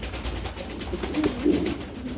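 Pigeons in a breeder's loft coo in soft, low, repeated calls over a constant background hum.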